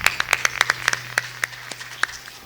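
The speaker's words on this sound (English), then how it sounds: "with a huge thunder of clap" A school audience applauds after a speech at a Father's Day celebration. A few sparse, separate hand claps sound from a small group, uneven in rhythm and fairly quiet over a low hum.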